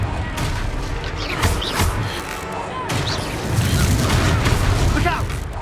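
Confringo explosive spell blasts from Hogwarts Legacy on PS5 land as loud, booming bursts in quick succession amid game effects and voices.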